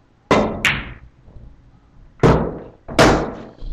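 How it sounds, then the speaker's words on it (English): Loud, sharp clacks of pool balls in an 8-ball game at home, a pair of hits near the start followed by two more separated strikes, each ringing briefly and close by. "I might shoot some pool."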